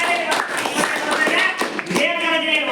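A student in a classroom claps hands, with a few sharp, uneven claps close by while a voice talks over them.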